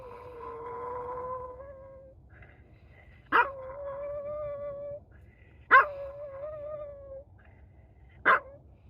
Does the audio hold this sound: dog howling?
yes